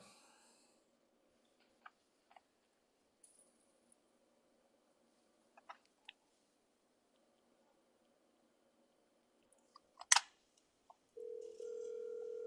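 A phone call being placed during a trivia game, heard as sparse faint taps and clicks across a quiet stretch, a sharper burst near the end, then a steady tone as the line connects.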